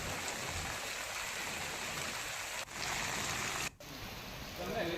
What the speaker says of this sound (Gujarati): ખાંભા શહેર તેમજ ગ્રામ્ય વિસ્તારમાં વરસાદ